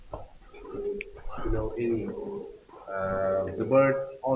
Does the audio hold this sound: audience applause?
no